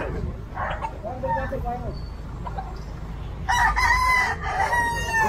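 Fighting roosters in cages crow loudly and close by, with overlapping calls growing stronger in the second half, while people talk in the background and clucking mixes in.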